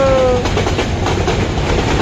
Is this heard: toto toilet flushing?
no